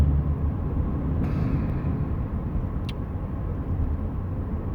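Car driving on side roads beneath a jammed highway, a steady low engine and road rumble heard from inside the vehicle, continuous and moderately loud, with a brief higher whine partway through.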